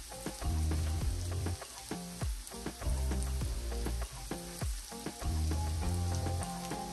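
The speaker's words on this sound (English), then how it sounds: "You just kind of cook the garlic until you start smelling the garlic" Garlic frying in a pan for a plantain, banana and shrimp bowl, a steady close sizzle with repeated stirring and scraping strokes at an uneven rhythm, no talking.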